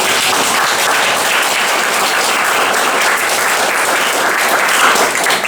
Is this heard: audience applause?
yes